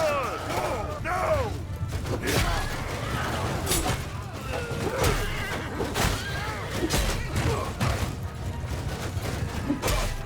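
Horses whinny and neigh repeatedly amid a noisy cavalry battle in Mount & Blade II Bannerlord, with clashing weapons, hoofbeats and crashes dense throughout, and a voice talking at times.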